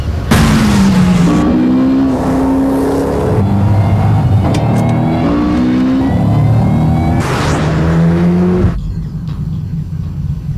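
A car engine accelerates and revs hard, with rising and falling pitch sweeps as it shifts through gears, loud and close, then cuts off abruptly near the end.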